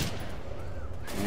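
Left 4 Dead 2 gunfire, a 12-gauge shotgun in play, comes as a dense, continuous roar of shots and effects filling the whole short stretch without pause.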